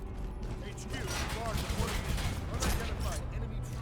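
Gunfire and mechanical action in the game Bionic Commando, a dense continuous barrage of shots and whirring effects with game noise throughout, loud and busy, with a voice talking over it.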